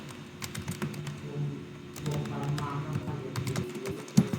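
Computer keyboard typing as Cisco switch configuration commands are entered, a steady run of quick close keystrokes with a few louder taps, over faint background hum.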